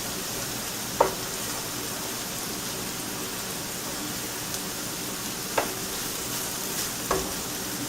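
Finely cut meat frying in a pan for spaghetti sauce gives a quiet, steady sizzle, with a few faint clicks of stirring or utensil contact and no voices.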